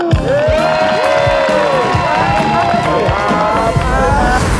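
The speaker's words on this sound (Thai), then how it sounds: "ขอเสียงปรบมือให้กับพี่ปุ้ยพี่มนวัน" A lively television studio audience cheers and applauds continuously, with shouts and whoops rising over a steady wash of clapping.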